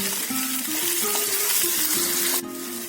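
Potatoes and Gobindobhog rice frying in a pan, a loud close sizzle and crackle of hot oil running throughout, with stirring scrapes and a brief louder burst near the end, no voices.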